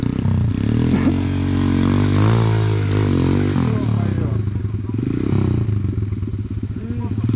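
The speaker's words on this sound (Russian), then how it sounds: "а то вдруг мотик стрельнет в тебя" Enduro motorcycle engine idling and revving up close at an enduro track, a loud steady rumble with a rise in pitch partway through, while someone speaks over it.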